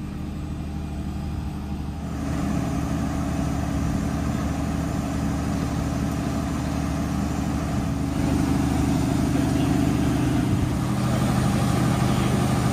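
A biogas generator engine runs in the operations room of a farm anaerobic digestion plant fed on maize and manure, giving a steady, close mechanical drone and low rumble that continues unbroken throughout.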